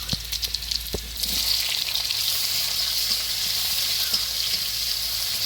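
Whole spices such as cloves, cinnamon, cardamom and cumin, then chopped onion, dropped into hot oil, bursting into a bright, constant sizzle with a few sharp crackles and taps near the start.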